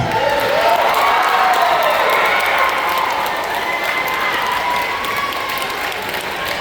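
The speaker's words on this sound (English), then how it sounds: "You can applaud." Applause from a pep rally crowd in a gym or auditorium, dense steady clapping with some cheering and shouts, loud and continuous throughout before easing slightly toward the end.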